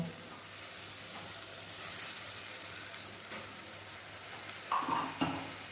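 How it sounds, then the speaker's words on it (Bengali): Sesame and green chili paste sizzles steadily in a hot wok, a continuous close hiss and crackle with a brief clatter near the end, no talking. "তিল আর কাঁচা লঙ্কার পেস্টটা কিন্তু আমি এখানে কড়াইয়ে দিয়ে দিলাম"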